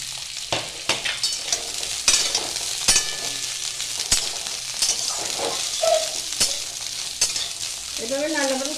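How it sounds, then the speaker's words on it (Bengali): Drumsticks (sajna) fry in a kadai wok and are stirred lightly, giving a steady crackling sizzle. Sharp clicks of the utensil against the pan break through it, with faint bird chirps near the end. "এখন সজনাটাকে একটুখানি হালকা একটুখানি নেড়ে নেবো করে।"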